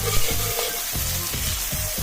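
Mee hoon rice vermicelli coated in paste sizzles steadily in a hot pan, with regular scraping stir strokes repeating under the continuous frying hiss, heard up close.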